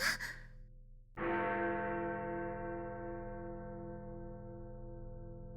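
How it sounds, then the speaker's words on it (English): A single heavy church bell strikes midnight in a visual novel game, one loud toll after a brief breathy sound, its rich ringing tone decaying slowly over several seconds. "The heavy toll of a bell echoed through the space between them."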